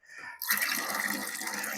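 Hot tap water pours and gurgles into a kitchen sink bath as pieces go in, starting quietly then swelling into a steady, close rush of water; no talking.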